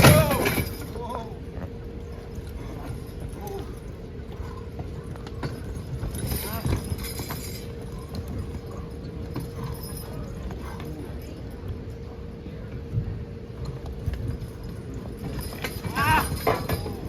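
Horses at a county fair lightweight horse pull, their hooves clopping and thudding at a moderate distance while they strain against the load, with a crowd murmuring and a voice talking over the scene throughout.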